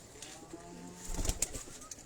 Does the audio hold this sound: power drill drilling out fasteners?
no